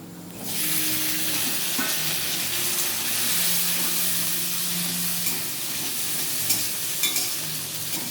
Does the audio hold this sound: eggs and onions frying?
yes